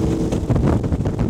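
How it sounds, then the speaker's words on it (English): A Cormate T27 Supermarine motorboat's petrol engine hums with a steady warble as the hull glides across open water, close and loud, with wind buffeting the microphone. "you've got that lovely petrol engine warble as well"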